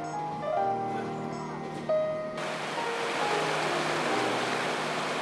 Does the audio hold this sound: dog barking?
no